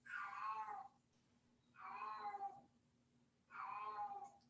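A hungry cat meows three times in slow, evenly spaced drawn-out cries, fairly close, with quiet pauses and a faint steady hum between calls.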